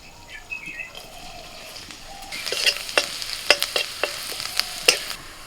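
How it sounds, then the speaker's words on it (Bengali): Chopped garlic sizzles in butter in a wok. A quiet hiss builds into louder frying, with sharp scraping clinks of stirring repeated in the second half. "আবারও কড়াইতে দু চামচ বাটার দিয়েছি এবার দিয়ে দিচ্ছি আমি রসুন কুচি"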